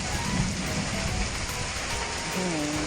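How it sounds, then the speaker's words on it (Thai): Heavy rain with big drops pours down in a garden, a dense, continuous hiss of water striking surfaces at close range, with no break and no clear voices. "เสียงตกคลืนคลืนนะคะ ไม่คิดว่าฝนจะตกมาก่อน"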